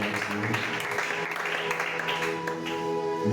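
Church congregation at a Friday teaching service applauding and cheering, a dense continuous wash of clapping with voices mixed in for a few seconds.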